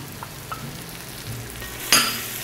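Diced onion and minced garlic frying for gumbo, a close, steady sizzle in a pan with a sharper hiss near the end as the pan is stirred or more food goes in. No one speaks.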